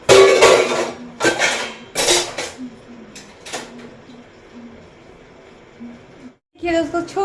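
A metal cooking pot, just used for making puja ghee in a village home, clanks and clatters in several separate bursts close by. A long quieter stretch follows, then a voice returns near the end.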